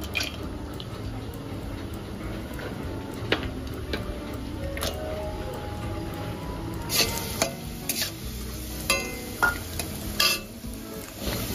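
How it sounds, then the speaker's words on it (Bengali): Raisins and cashews frying in oil in a hot wok: a continuous soft sizzle with scattered scrapes and clinks of a spoon against the metal, busier toward the end, no voices. "এখানে তেল দিয়ে দেব। এখানে কিশমিশ কাজু বাদামগুলো দিয়ে ভেজে নেব একটু।"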